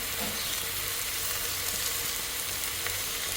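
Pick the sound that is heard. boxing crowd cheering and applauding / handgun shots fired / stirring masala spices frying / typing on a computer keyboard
stirring masala spices frying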